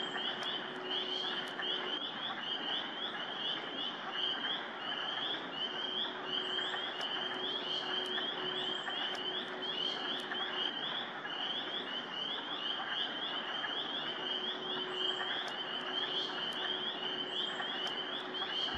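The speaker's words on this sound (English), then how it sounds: "I'm hearing wood frogs and peepers." Wood frogs and spring peepers call in a steady, dense chorus over nearly twenty seconds, high repeated peeps over a low continuous clucking drone, moderately distant and with no talk.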